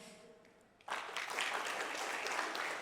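Audience applause breaks out at a live finance-and-comedy talk show in Amsterdam after a quiet opening, a sudden dense burst of clapping that holds steady and loud to the end.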